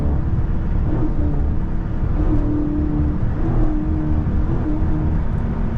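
A Dodge Charger Scat Pack SRT engine revs hard and drones steadily, loud and close, with the pitch holding high and then shifting slightly as it accelerates.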